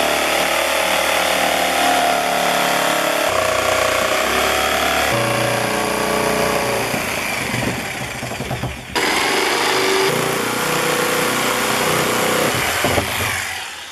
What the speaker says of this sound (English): the reason we're drilling these ones first is we're not going to fit them